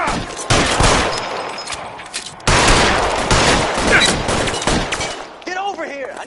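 Rapid gunfire from a PS4 shooter game, bursts of automatic weapon fire and fusillades crackling loudly and continuously, with a brief gap midway and a voice speaking near the end.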